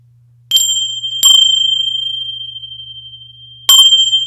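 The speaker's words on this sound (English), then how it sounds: "One is my tinshi bells. Tinshi bells, guys, these are brass. They use them in Tibet." Brass Tibetan tingsha bells are struck three times, each strike giving a bright, clear ring that sustains and slowly fades, with a low steady hum beneath and no talking.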